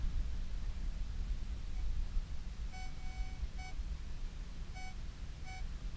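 A metal detector sweeping on a beach gives several short, clear electronic beeps in two pairs, sounding over steady wind and surf noise.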